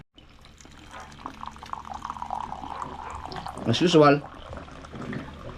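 Hot water is poured in a home kitchen, a steady trickle that swells into a louder gurgling fill near the end, while a person talks over it.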